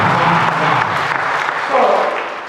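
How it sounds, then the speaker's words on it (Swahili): A church audience claps, a dense steady applause that swells toward the end, with voices mixed in underneath. "Makofi"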